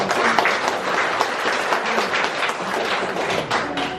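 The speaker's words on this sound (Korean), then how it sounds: "박수 좀 주시고요" Participants at an education community forum clap in a brisk round of applause, loud and close, with individual claps and a few thumps standing out in the dense patter.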